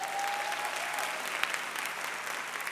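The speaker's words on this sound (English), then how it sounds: "I think we can clap for that one" Steady applause from the audience at a TVET college graduation and diploma ceremony, heard from a distance and fairly quiet, an even wash of clapping with no voices.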